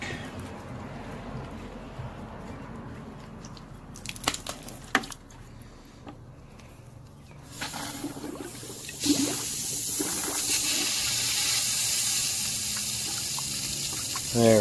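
Water poured into a DIY bio swirl filter churns and gushes steadily in the second half, preceded by quieter handling sounds and a few sharp knocks.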